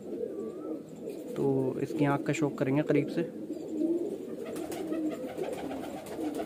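A highflyer pigeon coos up close in a few throaty, rolling pulses, while someone talks over and around the calls.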